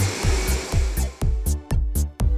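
A vacuum cleaner whines loudly in repeated short bursts, switching on and off about eight times in quick rhythm, close and alone without voices.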